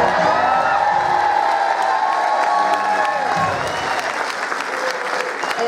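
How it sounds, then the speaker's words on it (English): An audience applauds and cheers after a magic trick in a show, a dense, loud wash of clapping with whoops and crowd voices mixed in, sustained throughout. "For the grand finish, fling open the fabric and receive your well-deserved applause"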